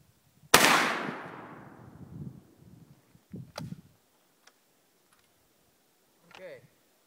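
A single sharp gunshot cracks at an outdoor shooting range and rings out with a fading tail, followed by a few small clicks and handling noises, with brief quiet talk near the end.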